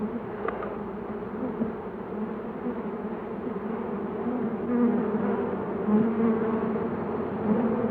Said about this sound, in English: our very own honeybee, which lives, of course, in hives